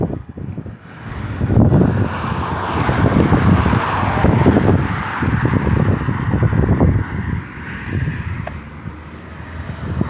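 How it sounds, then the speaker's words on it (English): Continuous roar of passing road traffic with broadband rumble and wind-like hiss, steady and fairly loud throughout, no voices. "Sorry, the traffic noise."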